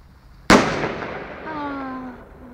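A firework bursts with one loud, sharp bang in a garden in Faifley, followed by a crackling decay and a rising whistling tone, with voices nearby.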